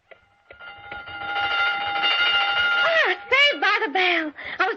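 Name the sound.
store closing bell in radio drama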